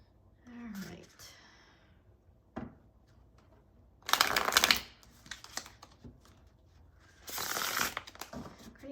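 A tarot card deck is shuffled by hand, two bursts of riffling and rustling cards, each about a second long, close and fairly quiet, with a voice speaking softly between them.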